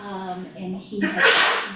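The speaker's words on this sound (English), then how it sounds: "bless you, Gesundheit." A sneeze bursts out partway through a public town board meeting, a sharp noisy blast coming right after a man's speech, fairly close and loud.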